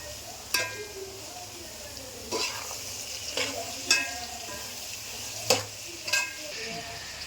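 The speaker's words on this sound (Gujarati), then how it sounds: "હવે આપણે આપણી કોબીજ નાખી દઈશું" Cabbage stir-frying in a pan with a steady sizzle, punctuated by several sharp scrapes and clinks of a spatula at irregular intervals.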